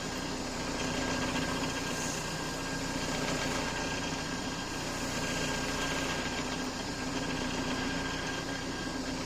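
A motor-driven carding wheel brushes loose oxide off a blued firearm part, giving a steady, dense whirring hiss that continues evenly throughout.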